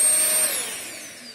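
A Jimmy JV83 vacuum cleaner's motor whirs at high pitch with a falling whine, loud at first and then settling slightly quieter as it runs, alone with no talking.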